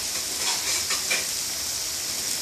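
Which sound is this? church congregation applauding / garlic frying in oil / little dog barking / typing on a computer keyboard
garlic frying in oil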